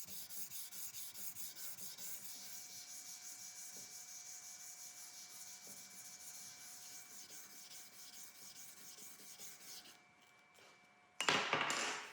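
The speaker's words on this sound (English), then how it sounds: "still scrubbing away, switching directions to crosshatch the scratch pattern" A patterned steel knife blade is hand sanded in steady, rapid back-and-forth scrubbing strokes that go on for several seconds, then stop, followed by a brief handling clatter.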